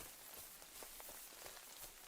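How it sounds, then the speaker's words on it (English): Soft, steady rain pattering on leaves, tree limbs and the ground in the Kingdom Come Deliverance 2 video game, a faint continuous hiss scattered with light drop taps and no talking. "hearing the pitter-patter of the raindrops hitting the leaves and the ground and the tree limbs"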